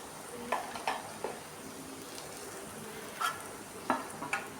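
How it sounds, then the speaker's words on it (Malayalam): Chili powder, turmeric, fennel powder and chili flakes sauté in a pan for chicken kondattam, a soft, quiet sizzle punctuated by a few spoon taps and stirring scrapes. "ചില്ലി ഫ്ലേക്സും കൂടെ ഇട്ട് നമുക്ക് ഒന്ന് വഴറ്റി കൊടുക്കാം"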